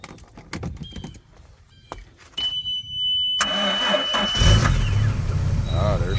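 Volvo Penta V6/V8 fuel-injected boat engine with an electric fuel pump, first clicking and cranking in short bursts, then catching and settling into a steady running roar up close.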